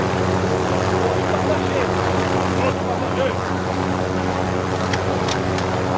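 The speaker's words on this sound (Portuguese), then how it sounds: "Vamos pegar o helicóptero." A helicopter in the Warzone battle royale game, a steady loud rotor and engine drone that runs throughout, with faint game effects and brief clicks on top.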